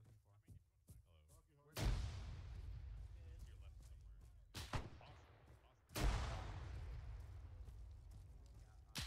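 Gunfire on a World War II battlefield in the Arma 3 video game: two heavy blasts a few seconds apart, each followed by a long, rolling echo that fades slowly, with quieter shots in between.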